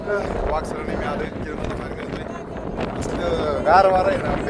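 Strong cold wind blowing in a crowded spot at Kalsubai, roaring and buffeting the microphone in a continuous rumble, with people talking throughout.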